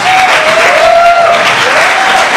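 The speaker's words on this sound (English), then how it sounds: "Please give them a round of applause" A crowd gives a loud, sustained round of applause for elected officials at a swearing-in ceremony for Girmay Zahilay, the dense clapping continuous throughout, with a faint voice briefly audible over it.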